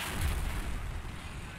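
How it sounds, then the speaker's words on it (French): In Battlefield 4, a massive explosion destroys a bridge, a deep, dense roaring rumble with heavy low-end boom that stays loud for the whole moment. "ça va alors exploser tout simplement sur toute la route et faire casser le pont"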